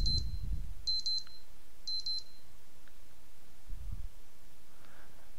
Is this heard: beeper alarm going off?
yes